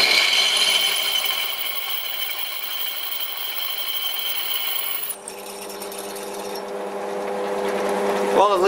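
An 8.5 mm drill bit enlarging holes in an old lathe faceplate gives a steady, loud grinding whine that shifts character about halfway through, continuing alone without talk.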